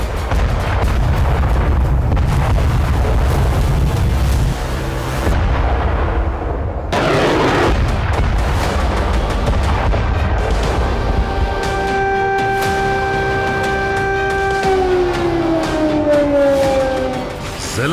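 Heavy bombardment of artillery explosions near the Sumy border area with Russia in war footage, a loud continuous barrage of deep booms and rumbling, with a rising siren-like tone sweeping in over the final seconds.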